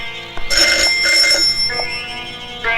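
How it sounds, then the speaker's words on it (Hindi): A telephone bell rings loudly and close by in a house, bright repeated trilling bursts that continue through the whole stretch with no voices. "शायद उसी का फोन हो।"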